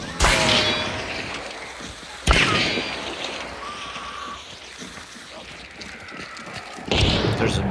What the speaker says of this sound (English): This is a chaos bomb.